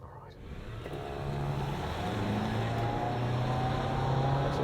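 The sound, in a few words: Toyota RAV4 hybrid accelerating hard from standstill, traction control off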